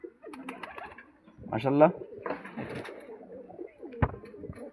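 A female golden pigeon coos in short, soft bursts at close range, the throaty calls mixed with a person speaking nearby.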